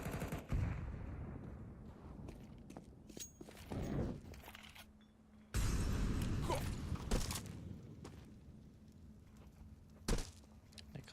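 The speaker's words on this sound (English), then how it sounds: "Soltovsky's AWP rings out with a pick." AWP sniper rifle in Counter-Strike, sharp loud shots cracking out amid bursts of other gunfire and game noise, a match in full flow.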